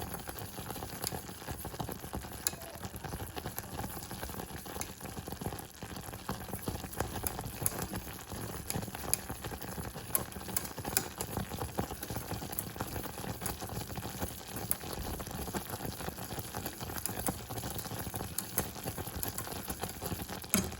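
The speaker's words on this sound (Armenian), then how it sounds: "Այսպես ակտիվ պիտի եռա" A pot of bird's milk candy mixture boils hard on the stove, giving a steady bubbling and popping hiss that runs without a break and stays at an even, close level the whole time.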